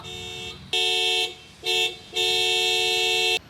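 A car horn blares in three long honks, loud and close, separated by brief pauses, with no talking.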